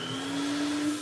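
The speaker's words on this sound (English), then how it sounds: "durable plug for a durable vacuum. Plug it in and check it still works." A restored vintage 1983 Numatic vacuum cleaner runs with a steady motor whine and rushing airflow, close and constant, with no talk.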